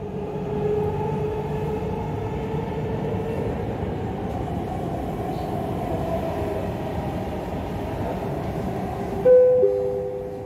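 A Dubai Metro train riding toward Airport Terminal 1 station, heard from inside as a steady rumble with a constant hum and whine, and a brief louder jolt near the end; no talk.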